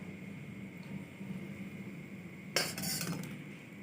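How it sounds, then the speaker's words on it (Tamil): Jangiri sweets being stirred in sugar syrup, a quiet background hum broken by a brief burst of clinking and scraping from the utensil against the vessel near the end. "அதில் போட்டு நல்லா ஒரு 2 நிமிஷம் நல்லா கிளறி விட்டுடலாம்"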